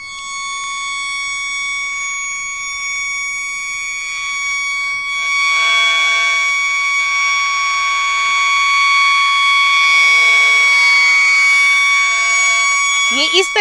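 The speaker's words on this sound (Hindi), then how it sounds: "ये इस तरीके से सायरन की आवाज बजेगी।" A village civil defense siren wails steadily and loudly, holding a sustained tone that swells slightly partway through and runs almost the whole stretch, with a short rattling noise at the very end.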